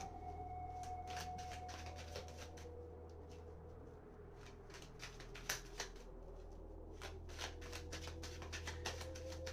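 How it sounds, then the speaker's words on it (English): Soft, close riffling of playing cards being shuffled in a few quick bursts over a low steady hum, with no voices. "I'm going to just shuffle cards"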